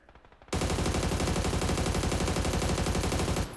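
Rapid automatic gunfire from the PUBG video game breaks out after a brief quiet lead-in, a loud sustained burst of evenly spaced shots lasting about three seconds.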